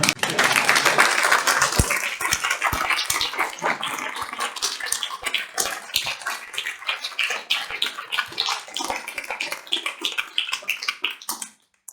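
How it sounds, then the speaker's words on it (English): Audience at a party conference in Scotland applauds, a dense wash of clapping that gradually thins into sparser individual claps before stopping abruptly. "We're going to give you a round of applause."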